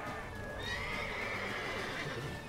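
A horse in the video game The Witcher 3 gives a short, clear neigh with hoof clip-clop beneath, no talking.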